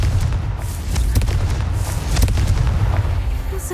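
A Confringo spell explodes in Hogwarts Legacy with heavy, booming blasts and sharp cracking bursts over a dense low rumble, loud and continuous throughout.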